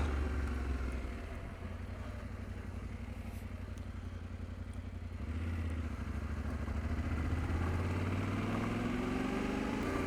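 Yamaha Tenere 700 motorcycle ridden on a cool morning, a steady close engine drone with wind rush running the whole time and rising slightly in pitch near the end as it accelerates.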